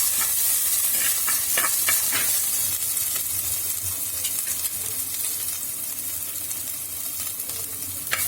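Masala sizzles steadily as it sautés in a pan for a Travancore-style fish curry, a loud continuous fry hiss broken by scattered clicks of stirring, with no talking.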